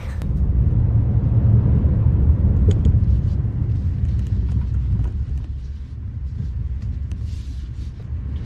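A Hyundai Santa Fe Hybrid SUV with all-wheel drive grinds along an off-road course at a proving ground, giving a steady loud rumble of tires and engine with scattered gravel crunches.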